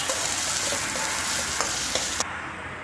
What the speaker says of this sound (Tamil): அந்த பெரிய வெங்காயம் பொடியாக கட் பண்ணது, ஒரு ரெண்டு பெரிய வெங்காயம் ஆட் பண்ணியிருக்கேன், ஒரு ரெண்டு வரமிளகா. நல்லா ஃப்ரை பண்ணிக்கலாம்.